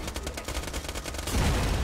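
Rapid automatic gunfire from the video game Borderlands 2 rattles in a fast even burst, then gives way to a louder, denser roar of explosion-like noise.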